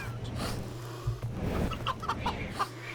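A small chibi chicken in the game CHKN gives a few short clucks and squawks over a steady low game hum, the calls coming in quick irregular bursts.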